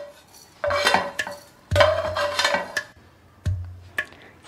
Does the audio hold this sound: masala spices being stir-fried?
yes